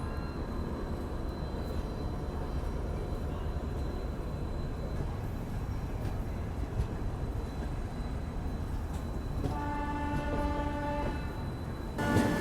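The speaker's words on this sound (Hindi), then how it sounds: "ट्रेन यहाँ मात्र 5 मिनट रुकी और डिपार्चर हो गया अपना खड़गपुर जंक्शन रेलवे स्टेशन से" The Howrah–Puri Dhauli Express pulls out of Kharagpur Junction with a continuous low rumble of rolling wagons, then a long, loud multi-tone horn sounds near the end.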